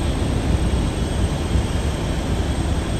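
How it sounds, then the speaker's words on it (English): An F-18 jet engine roars as a dense, continuous broadband rumble, loud and steady throughout with no pauses or voices. "The first one was an F-18 jet."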